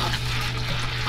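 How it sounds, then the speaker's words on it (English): An RV toilet flushes with a steady rushing, gurgling wash of water that carries on unbroken at moderate loudness, close by, over a low hum and with no talking. "And flush it down the toilet."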